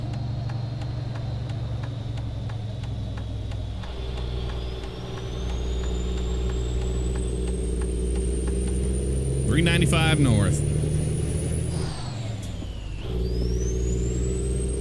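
A deep, rumbling International Eagle 9400i truck engine in American Truck Simulator drones steadily with gear-shift dips, while someone talks briefly over it and a rising whine sweeps upward.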